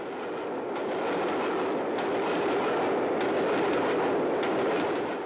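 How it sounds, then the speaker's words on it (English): LMS Stanier Pacific steam locomotive City of London passing at speed at the head of a Euston–Liverpool express on the West Coast main line, a loud, steady rushing roar of wheels and carriages with rhythmic clatter, no voices. "We now move on to Dodswell to see City of London head by on a Euston-Liverpool train."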